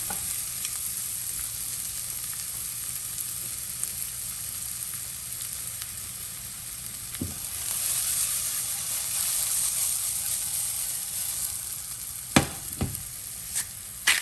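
Sliced shallots sizzle steadily in a pan still holding the liquid from cooked pork chops, a continuous close frying hiss with a few brief scrapes and clatters near the end.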